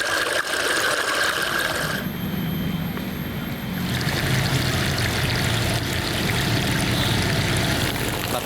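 Water from a small stream runs through a roughly 100-metre pipe into a collecting tank, giving a steady, close rushing and trickling wash that carries on without a break and shifts a little in tone partway through.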